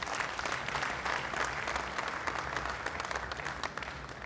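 Applause from a banquet audience at an annual bankers' dinner, a dense, steady wash of many hands clapping that carries on at an even level for several seconds.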